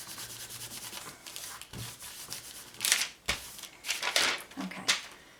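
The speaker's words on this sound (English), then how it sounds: "just grab like a piece of paper and just give it a rub" Paper rubbed by hand over a glued paper Cricut snowflake gift box, giving soft dry scraping strokes in uneven bursts, close and fairly quiet, with no talk.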